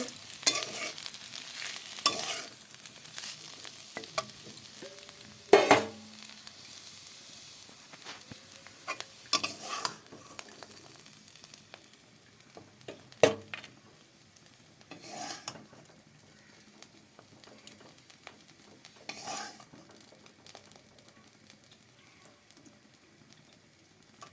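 Bitter gourd fries in hot oil with a steady low sizzle, broken by occasional scraping and stirring sounds from a spatula in the pan.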